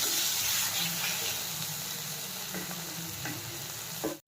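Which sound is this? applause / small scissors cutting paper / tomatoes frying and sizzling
tomatoes frying and sizzling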